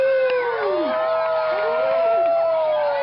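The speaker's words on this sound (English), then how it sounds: "Give me a cheer." A crowd at an announcements gathering cheers and whoops on cue, a sustained chorus of voices with rising and falling yells filling the space for a few seconds.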